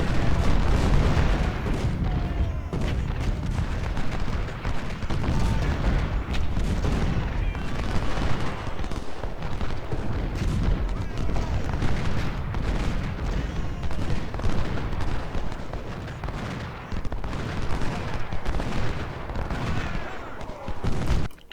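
Cannon artillery and musket fire in the Civil War strategy game Ultimate General: Civil War, a continuous dense battle din of rumbling booms and crackling volleys with no clear pauses.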